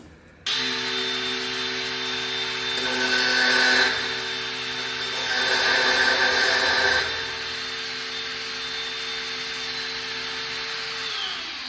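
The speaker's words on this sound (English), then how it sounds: "We're gonna cut the exhaust with the grinder now" An angle grinder whines loudly and steadily close by while cutting a car exhaust pipe on a BMW E46 four-cylinder, with two stretches of louder, harsher grinding as the disc bites into the metal.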